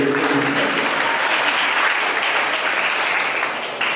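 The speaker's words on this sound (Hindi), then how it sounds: "तालियां बजाइए।" An audience at a Vedic quiz competition applauds, with dense, sustained clapping from a crowd that holds steady and then tapers slightly toward the end.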